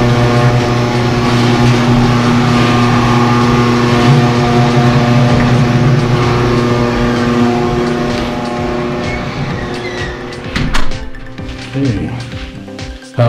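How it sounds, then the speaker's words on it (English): A garage door closes in a heated garage, giving a steady mechanical hum that runs for several seconds before ending with a few brief knocks; a voice speaks briefly partway through. "And we'll just close the garage door."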